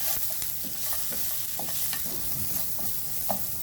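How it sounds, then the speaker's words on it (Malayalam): Mushroom masala is stirred briskly after garam masala and Kashmiri chilli go in, with close spoon scrapes over a sizzling pan at a quick, irregular rhythm and no talking. "ഗരം മസാല, അതിനുശേഷം കുറച്ച് കാശ്മീർ ഇതിട്ടതിന് ശേഷം നല്ലതായിട്ട് ഇളക്കുക."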